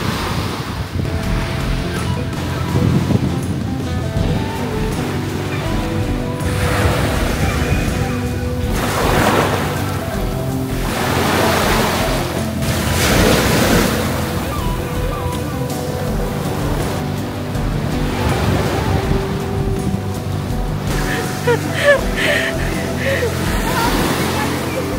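Rough sea waves breaking on a shore, repeated surging crashes rising and falling every few seconds under strong wind buffeting the microphone, loud and continuous.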